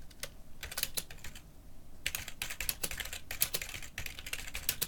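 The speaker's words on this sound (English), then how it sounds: "what now you're typing at Adam Savage?" Rapid clicking keystrokes on a computer keyboard come in uneven bursts with short pauses, close and clear with no voices.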